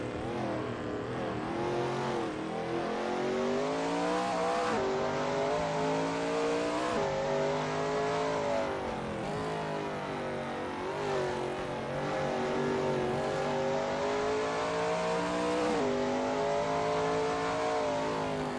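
Shelby Mustang GT350R engine lapping Zandvoort in a racing game, loud and close, revving up through gears in repeated rising sweeps with brief drops at shifts, no talk.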